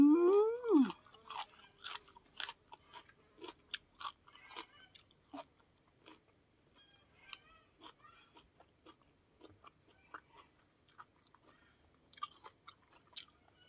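Close, quiet chewing of Thai catfish chili dip with pea eggplants, bitter melon and long beans: soft irregular crunches and mouth clicks after a brief voice at the start.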